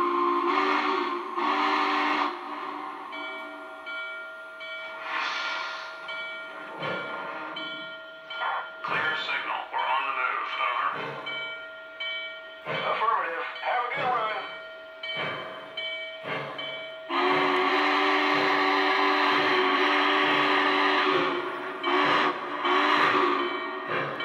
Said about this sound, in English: let's get this locomotive down the line